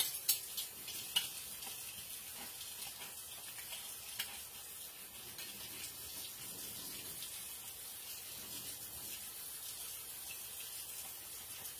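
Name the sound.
washing dishes in sink with running tap water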